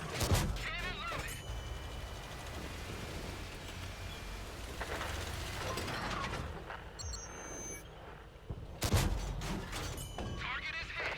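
A tank cannon in a video game fires with booming blasts at the start and again near the end, heavy low rumbles over a constant rain-like background, with quieter stretches between.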